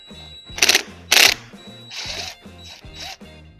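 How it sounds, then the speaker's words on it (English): Screws being removed from the retainer ring of a telescoping flagpole, with two loud ratcheting bursts followed by softer grinding and clicking turns over a steady low hum. "Next, remove the screws from the retainer ring."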